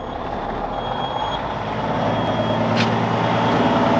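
A truck's warning beeper sounds as a thin, steady electronic tone over the deep rumble of the idling engine, which gradually builds in loudness as the air pressure rises.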